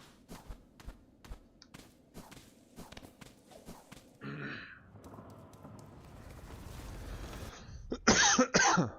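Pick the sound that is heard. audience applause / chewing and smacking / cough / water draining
cough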